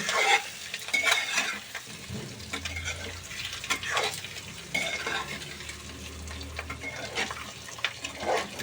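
Boiled eggs fry in hot oil in a kadai, giving a close, continuous sizzle with frequent stirring scrapes and occasional light metallic clinks of a utensil against the pan.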